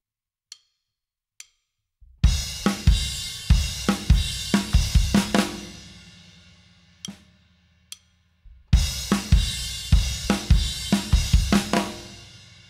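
Drum kit playing a fairly simple fill: two sharp isolated hits, then a dense run of loud close drum and cymbal strikes, a brief gap with scattered hits, and another busy burst of fills.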